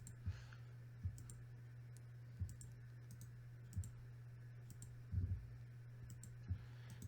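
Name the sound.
computer mouse clicking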